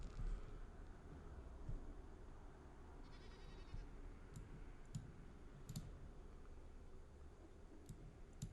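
Goats bleating in Dragon Age Origins, a few short scattered calls over a continuous low game ambience with occasional light clicks, no speech.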